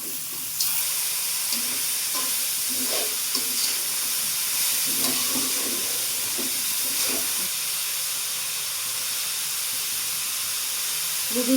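Vegetables stir-fry in a hot pan for noodles, a steady close sizzling hiss running throughout, with occasional stirring scrapes and clinks and no talking.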